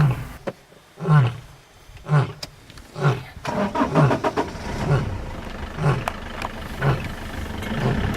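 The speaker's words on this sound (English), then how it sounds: "Then we heard a lion to the west of us." Wild lion in the African bush at dusk, a series of deep, rhythmic roaring grunts repeating roughly once per second, moderately near and carrying over a faint background hum.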